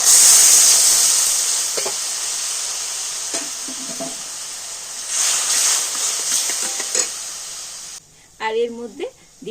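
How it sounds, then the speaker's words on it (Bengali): Soy sauce mixture stirred in a hot pan with water added, a loud steamy hiss that eases and swells again with light stirring clinks, ending in a short spoken phrase. "একটু নাড়াচাড়া করে আমি একটু জল দিয়ে দেবো।"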